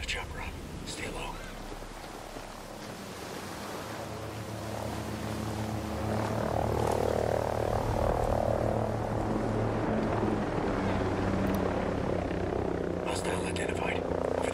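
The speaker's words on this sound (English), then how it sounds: "Got a chopper on. Stay low." Helicopter in the Ghost Recon Breakpoint video game, a low rotor drone that swells from a quieter rumble to a louder, sustained hum midway as it draws nearer, with faint murmuring over it.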